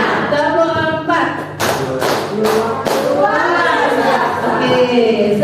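A class claps a learned rhythmic pattern together, four or so crisp, loud claps in a row, while a teacher speaks before and after.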